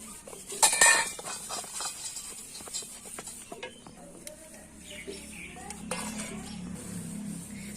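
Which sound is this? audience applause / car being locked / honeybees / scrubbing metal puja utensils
scrubbing metal puja utensils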